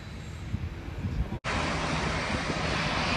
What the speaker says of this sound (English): at the beach we have an aircraft coming